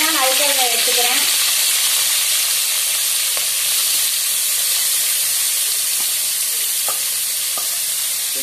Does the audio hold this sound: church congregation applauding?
no